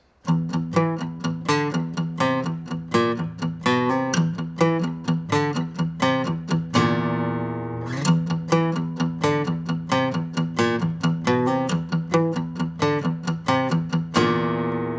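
An acoustic guitar plays a slow, repeating riff of plucked notes, pausing briefly on a ringing chord midway before the pattern resumes, clear and close.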